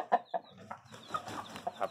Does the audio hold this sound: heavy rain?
no